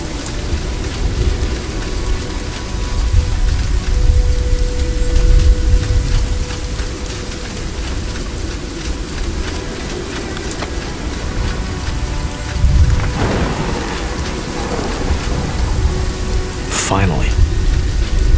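A rainstorm in the video game Spellforce 3 keeps up a steady, dense wash of rain throughout, with a louder surge of low rumbling thunder partway through and another sharp crack near the end.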